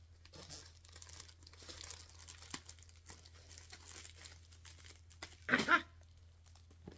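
Someone opens an Amazon mailer package with soft, intermittent crinkling and tearing of packaging material close by, ending in a louder, brief rip.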